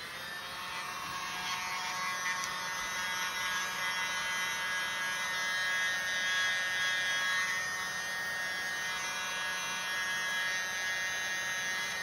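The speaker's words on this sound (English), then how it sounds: "I think I'm going to use my smallest blower instead." A small electric blower runs continuously beside an acrylic pour painting on an 8x10 canvas, a steady, close, high-pitched whirring buzz with no pauses and no talking.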